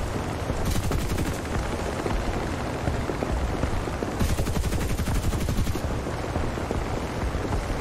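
Gunfire in the video game War Thunder: dense rapid bursts of automatic fire crackling continuously, loud and close, with two brighter stretches of especially intense shooting.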